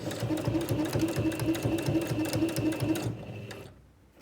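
A sewing machine stitches the edge of Velcro tape onto fabric, running in a fast, even, rhythmic whir close by, then slowing and stopping near the end with no talk.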